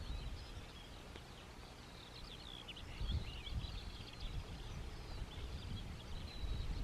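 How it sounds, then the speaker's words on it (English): Distant birds chirp and sing faintly over the open limestone Alvar grassland of northern Öland, their scattered high calls set against steady wind and outdoor rumble. "You can hear the birds."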